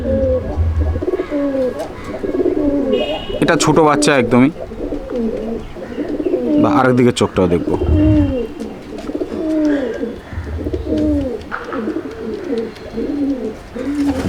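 Young Kaldama pigeons in a loft give repeated soft, throaty coos close by, while someone talks over them throughout.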